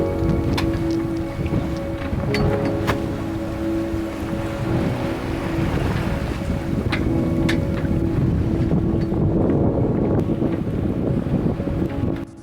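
A sailboat moving through long swells on the Ionian Sea, a continuous rushing wash of water against the hull with steady wind across the microphone and a low droning hum throughout.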